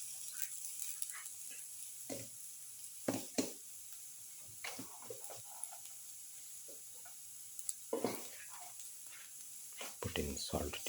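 Ginger sizzles as it goes into a hot pan for a beetroot chicken casserole, a faint steady hiss broken by clinks and scrapes of a spoon stirring.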